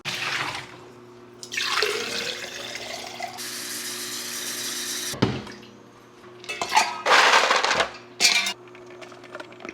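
Water runs from a kitchen tap in uneven gushes that start and stop. Clinks of glass or dishes and a few sharp knocks come in between the bursts, nearby and fairly loud.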